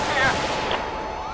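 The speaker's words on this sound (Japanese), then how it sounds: "奥で撃ち合いになってる。" Gunfire from a street shootout between police and gangsters in the video game GTA 5, a dense burst of shots and blasts over a ringing tail, heard loud and close.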